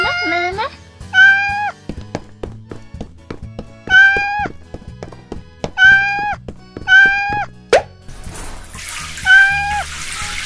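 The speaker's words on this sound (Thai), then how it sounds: "น้องแมวอยู่ในนี้ใช่ไหมจ๊ะ" Repeated toy-like cat meows at a toy pet shop play scene with dolls, about seven short pitched calls spaced through the stretch, each fairly loud, with small clicks and handling thuds between and a burst of rushing noise near the end.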